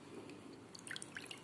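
Water dripping off soaked chicken liver as it is lifted out of a bowl, a few faint splashing drips over a quiet background.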